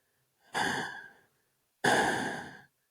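A voice imitates heavy breathing with two long, breathy exhalations separated by a short pause, close and clear with no other sound around them.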